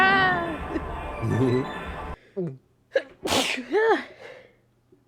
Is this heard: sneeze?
yes